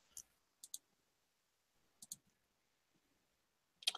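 Computer mouse clicks during a video call: a handful of sharp, quiet clicks, some in quick pairs, separated by silence, with no talking.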